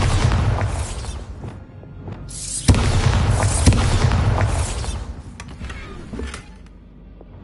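A Bombarda spell goes off in Hogwarts Legacy, loud booming blasts with a deep rumble and a sharp burst partway through, then a fading tail.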